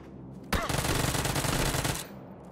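Video game gunfire: a sustained rapid burst of automatic shots lasting about a second and a half, loud and dense, with no talking over it.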